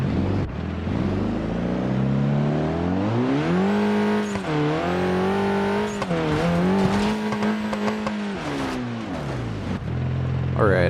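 A Koenigsegg CCX engine in a video game revs up and down repeatedly, its harmonic whine rising and falling in pitch with brief gear-shift dips, loud and close, with a voice talking over it.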